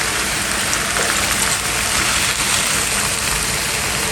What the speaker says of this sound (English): In goes the sauce.